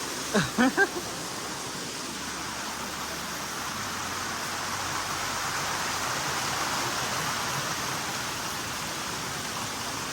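Water rushing down Kachle Steps waterfall near Mahad, a steady broadband roar of flowing water that runs continuously, with a few brief knocks at the start.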